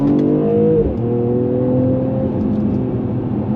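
Mercedes-AMG E53 (W213) in Sport Plus mode with the exhaust opened, accelerating hard: a loud, close engine drone whose pitch climbs, dips briefly at a gear change near one second, then holds a steady, rising tone.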